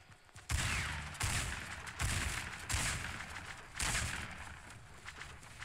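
Gunfire in Fortnite comes as several separate bursts of shots spaced about a second apart, each sharp onset followed by a fading tail, fairly loud, with no talk.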